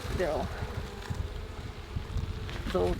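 Honey bees buzz at an open hive during autumn maintenance, a dense, close, continuous drone with individual bees swelling louder as they pass near.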